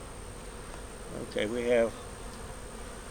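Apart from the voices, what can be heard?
honey bees buzzing at hive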